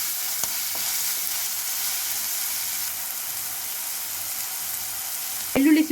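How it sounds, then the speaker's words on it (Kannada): Spices with salt and turmeric frying in a pan for vada pav, a steady close sizzle with occasional stirring scrapes and a louder clatter near the end. "ಫ್ರೈ ಮಾಡೋಣ."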